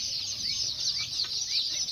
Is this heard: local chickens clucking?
yes